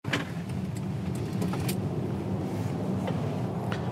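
An Audi Q4 e-tron 50 Sportback electric car accelerates in dynamic mode, running steadily and loud throughout, a continuous low road-and-motor rumble with faint clicks and rattles on top.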